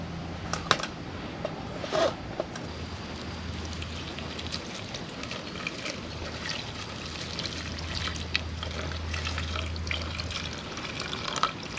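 Water poured into a billy pot on a Trangia camping stove trickles and splashes steadily for several seconds, with a few sharper clinks of metal, close and fairly quiet, no voices.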